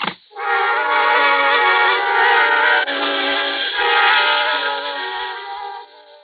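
A train rumbles and rolls along in a radio drama, a steady, loud, filtered clatter with whistle-like tones running for several seconds.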